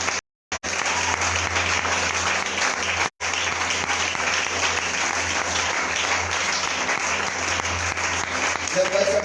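A church conference congregation breaks into loud, sustained applause and cheering, broken by two brief silent gaps near the start and continuing strong throughout.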